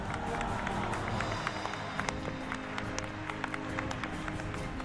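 Crowd applause greeting Mexico's new president at San Lázaro, a distant dense patter of clapping with scattered sharper claps standing out, faint and steady across the whole span.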